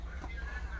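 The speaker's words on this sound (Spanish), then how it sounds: "ahí están las gallinas" Hens cluck softly at a farmyard, a steady low murmur of short fowl calls running through the whole brief moment with no talk over it.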